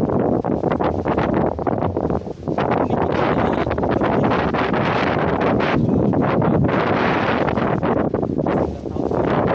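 Strong wind buffets the microphone at a wind turbine site, a loud, continuous roar with gusty surges and brief dips, no talking.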